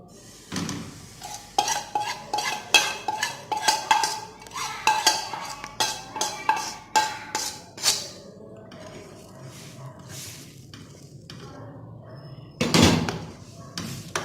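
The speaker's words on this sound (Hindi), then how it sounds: "इसके बाद इसे हम पैन में डालेंगे और इसे कुक करेंगे।" Spoon stirring kurkure batter in a pan over a slow flame, with rapid metallic scraping and clinking strokes for several seconds, then quieter handling and a louder bump near the end.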